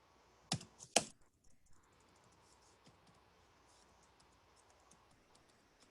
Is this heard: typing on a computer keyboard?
yes